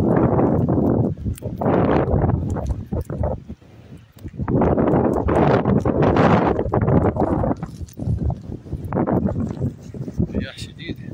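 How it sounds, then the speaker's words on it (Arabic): Strong wind gusts roar and buffet the microphone during snowfall in Al-Rashadiya, Jordan, loud surging bursts of noise with brief lulls, and people talk over it. "رياح شديدة."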